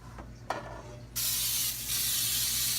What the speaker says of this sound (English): Make sure you spray it really good,